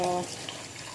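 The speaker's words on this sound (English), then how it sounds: "All I got to do is water them in." Water runs briefly over freshly potted rose cuttings in propagation trays, a soft close splashing and trickle lasting about a second.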